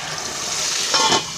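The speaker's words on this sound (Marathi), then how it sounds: "तर थोडं पाणी टाकते." Water poured into hot masala in a cooking pan for potato bhaji sets off a continuous hiss, which swells into a brief louder sputter near the end before settling.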